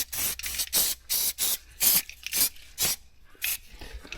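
Aerosol protective coating sprayed onto the underbody parts and a crusty bracket of an Audi B7 RS4: about nine short hissing bursts in a steady rhythm, close and fairly loud, with brief silences between them.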